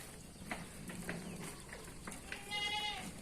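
Sheep and goats bleat in the morning on a farm where rams compete over a ewe in heat, with several short nearby calls and a longer wavering bleat near the end over background noise.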